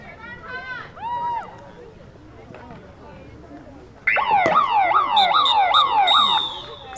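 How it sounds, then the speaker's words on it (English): A siren sounds at the end of a women's hockey match, a loud rising and falling wail that cuts in suddenly over crowd noise and continues for a few seconds after earlier faint chirps. "Sutherland clearing the ball over the side as the siren goes off."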